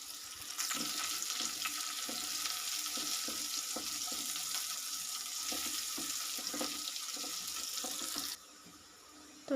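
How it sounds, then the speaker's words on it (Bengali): Chopped onion and garlic fry in a pan, giving a steady, fairly faint sizzling hiss that runs unbroken for several seconds with no voices. "আমি পেঁয়াজ আর রসুনের কুচিগুলো একটু হালকা ব্রাউন করে ভেজে নেবো"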